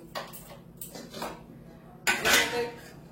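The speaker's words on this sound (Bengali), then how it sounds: "আর এদিকে আমি কড়াইটা বসিয়ে দিই" Metal kadai set down on a kitchen stove, a few light clanks followed by one louder scraping clatter, close and brief.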